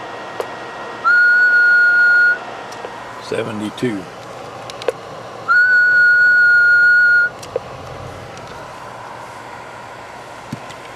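Two sustained, steady high whistles are blown into a CB radio microphone, each lasting about a second and separated by a pause, with a short burst of speech and static between them.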